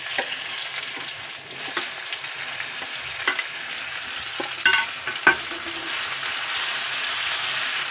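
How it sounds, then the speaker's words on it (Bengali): Chopped tomato frying with spices in a pan over low flame for a banana-flower vegetarian curry, a steady close sizzle broken by several sharp stirring clicks and scrapes, heard alone. "টমেটো কুচিটা দিয়ে একটু ভাজা ভাজা করে নেব"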